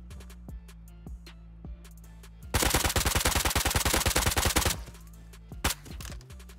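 MP5 submachine gun fire in the survival video game Rust: a few scattered shots, then a loud, rapid automatic burst lasting about two seconds, followed by more isolated shots, all close.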